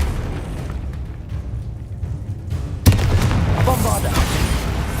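A Confringo fire spell bursts with a sharp explosive boom in Hogwarts Legacy combat, a sudden loud impact followed by crackling, roaring blast noise over steady background rumble.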